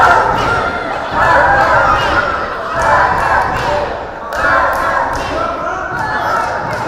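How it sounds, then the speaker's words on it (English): An arena crowd at an independent wrestling show jeers and chants at a wrestler in loud, rhythmic surges of massed voices, with thumping from the ring underneath. "The crowd is absolutely giving it to Rua here."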